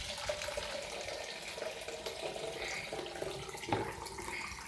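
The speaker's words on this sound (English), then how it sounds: "So now I'm gonna put it to the sink, and I'm gonna just fill it with water." Water runs from a sink tap into a jug, a faint, steady, hissing splash that continues evenly for several seconds without talk.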